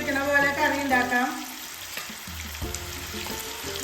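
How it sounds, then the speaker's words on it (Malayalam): Pieces of tuna fry in two pans for a homemade pickle. The oil gives a steady hiss and sizzle, with occasional stirring and utensil clatter close by, strongest at the start and then settling lower. "ഞാൻ 2 പാനിലായിട്ടാണ് മീൻ വറുക്കുന്നത്."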